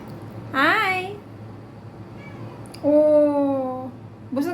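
Cat meowing three times at close range, drawn-out rising and falling cries with short gaps of quiet between them, the last one cut short.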